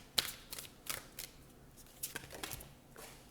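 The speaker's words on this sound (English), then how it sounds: "So I'm just going to cut the deck or shuffle it" A deck of cards shuffled by hand during a card reading: quiet, scattered crisp flicks and snaps spread unevenly, with soft gaps between them.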